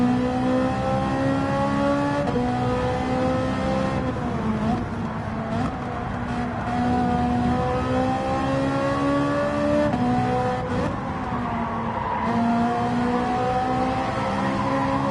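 A race car engine laps Autopolis in a racing video game, revving high and shifting through gears with rising and falling pitch, loud and continuous, with brief tire squeal and no talk.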